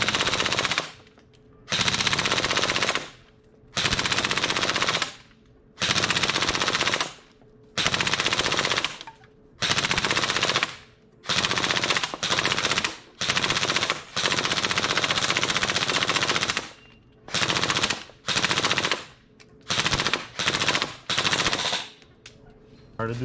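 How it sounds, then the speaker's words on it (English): Bursts of rapid automatic fire from a gun blasting through a foam backstop, about a dozen loud sustained volleys separated by short pauses, close and harsh with no talking. "I'm just gonna try to blast through one right here."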